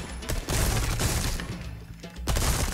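Loud, close gunfire rips through a fight in Resident Evil 4 Remake as a barrel is shot, dense bursts of rapid shots with a brief lull before a final heavy burst.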